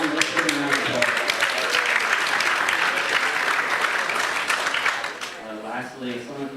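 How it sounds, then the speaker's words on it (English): Audience applause at an evening festival talk, dense steady clapping filling the room for several seconds before tapering slightly near the end, with speech-like murmurs mixed in. "Let's give them a round of applause"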